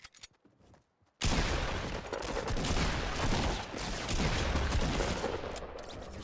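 Dense gunfire in the Fortnite video game erupts after a second of near silence and keeps going as a loud, continuous barrage of rapid shots.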